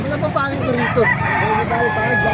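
A rooster crows loudly and close among a group of gamefowl at a farm in Calumpit, Bulacan, with clucking hens and people talking over the birds.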